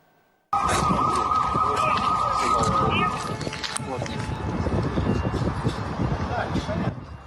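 A loud, sustained air raid siren wail in Belgorod starts abruptly and holds steady, joined by dense crackling and rumbling noise of strikes and air defense fire that continues after the siren's tone fades.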